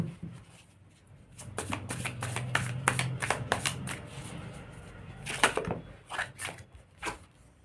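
Tarot cards are shuffled and drawn close up, with quick papery riffles and taps in irregular clusters, quiet and alone.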